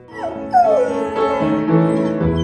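A dog howls and sings along to piano music, its voice sliding in long wavering wails with short yips over sustained piano notes, close and fairly loud throughout.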